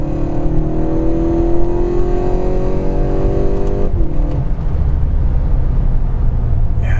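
A 2024 Volkswagen MK8 Golf GTI accelerates hard from inside the cabin, its engine note climbing steadily for about four seconds before a gear change drops the pitch and the pull resumes.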